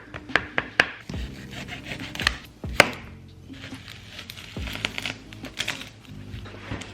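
Garlic being chopped with a knife on a board in a home kitchen: a quick series of sharp, close taps, then a pause and more irregular knocks and scraping, with no talking.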